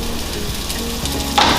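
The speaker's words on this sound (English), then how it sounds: "You're gonna hear a nice little sizzle when you put it in." Zucchini dropped into an oiled pan with olive oil gives a steady sizzle and crackle that swells sharply near the end as the pieces hit the hot oil, with no talking.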